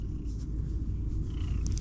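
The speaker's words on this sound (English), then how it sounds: "He's purring." A cat purring close up, a steady low rumbling vibration that continues without a break.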